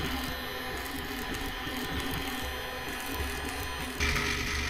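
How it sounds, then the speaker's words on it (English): A Bambu Lab A1 Mini 3D printer printing PETG gives a steady close mechanical whir of stepper motors with a busy, ratcheting texture, running alone and getting slightly louder near the end. "PETG printing perfectly on my Bambu Mini."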